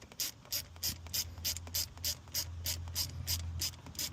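A ratchet with a 7mm socket clicks in quick, steady bursts while working a fuel line fitting on a Nissan Stagea, the close, crisp pawl ticks repeating about a dozen times under a low hum, with no talking.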